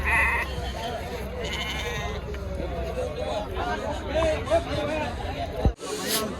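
Sheep and lambs of about five to eight months bleat repeatedly at a busy weekly livestock market, their calls rising over a steady crowd murmur and nearby voices.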